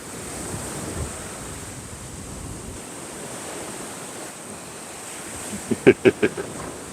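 Steady rushing ocean surf with whitecaps rolls on with a windy hiss in Thailand, and a short cluster of sharper bursts comes near the end.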